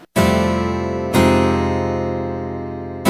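Block chords on a keyboard set to an acoustic guitar patch, three chords hit all at once with an abrupt attack and a long ringing sustain, loud and close, no talk.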